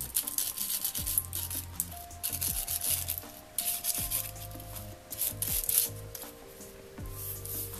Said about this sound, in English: Hold it in your hand, rub your brush over it, and a whole lot more will come out.